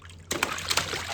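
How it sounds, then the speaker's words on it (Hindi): Brief splashing in a small pool holding about an inch of water, a sudden wet burst of sloshing noise after a quiet moment, close and fairly soft. "अच्छा नहा के तो दिखा दे, छप छप कैसे करता है डुगू"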